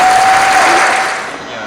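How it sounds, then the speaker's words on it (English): Brief burst of loud applause from the audience at a Navy change of command ceremony, a dense wash of clapping that fades slightly as it ends. "Round of applause"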